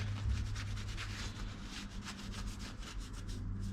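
A rag rubs and wipes briskly over an LS engine cover with brake cleaner, a close, soft repeated scrubbing rasp in quick strokes, with no voices.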